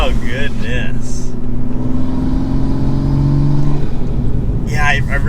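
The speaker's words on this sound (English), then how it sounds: "the high flow cat downpipe with this exhaust just gives it the perfect tone" Toyota Supra MK5 with a full exhaust and high-flow catted downpipe, its engine droning loudly and steadily, with a rising and falling rev throughout and speech briefly over the start and end.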